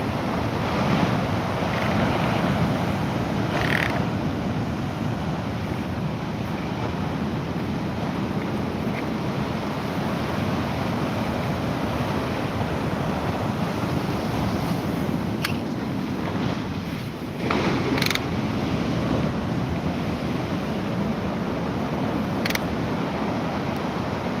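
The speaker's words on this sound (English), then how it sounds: "from where I live you can hear the sea at night time" Sea surf carries from a distance at night during an evening walk, a steady low roar mixed with gusty wind noise throughout, with no talking.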